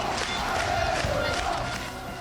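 A large crowd of orange-clad Le Mans fans celebrating a championship title roars and cheers continuously, a dense, loud wall of voices that fades slightly toward the end.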